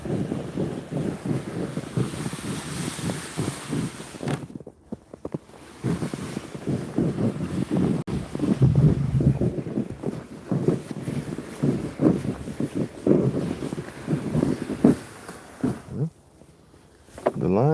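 Gusty wind buffets the microphone outdoors on the ice while ice fishing, a loud, rumbling low roar that rises and falls, with a person talking over it.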